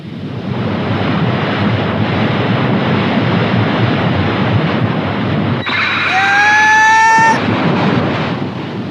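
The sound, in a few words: ocean waves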